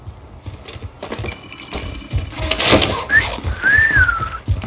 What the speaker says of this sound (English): Don't whistle at me, boy.